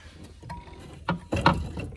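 A ratchet working a big nut loose on a 2008 Honda Civic fuel pump, giving a few faint clicks followed by two louder, close mechanical bursts near the end.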